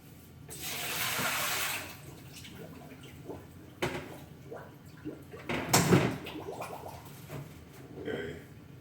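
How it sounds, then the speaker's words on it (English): Water poured out into a kitchen sink while making ginger beer, splashing and gurgling in uneven bursts at close range, with clattering of dishes and a brief gargle-like drain sound. "let me get rid of this water"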